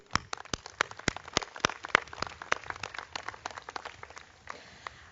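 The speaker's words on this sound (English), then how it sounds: "give them a round of applause." Applause for the graduating class at a 2015 architecture commencement, a sparse run of sharp, distinct claps from a small group, loud and close at first and then thinning out toward the end.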